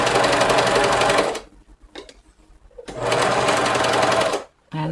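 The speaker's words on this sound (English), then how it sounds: "And then I just sew around with that." A sewing machine runs in two steady bursts, stitching thick, bulky pea coat fabric, with a quiet pause of small handling sounds between the runs and a final brief restart.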